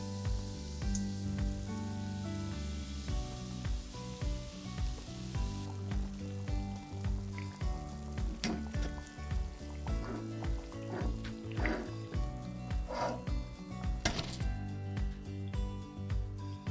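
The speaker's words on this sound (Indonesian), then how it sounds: "Dan goreng sampai habis." Donut balls frying in hot oil, a dense continuous sizzle with crackling pops and bubbling, steady and close throughout.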